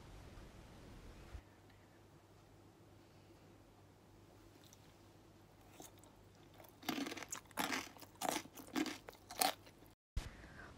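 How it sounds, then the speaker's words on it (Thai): Close, loud crunching bites and chewing of crispy pork belly with puffed crackling skin and juicy meat, a run of sharp crisp crunches after a quiet stretch, with no talk. "หมูกรอบของเราก็กรอบมากๆค่ะหนังฟูกรอบแล้วก็เนื้อด้านในนุ่มชุ่มฉ่ำ"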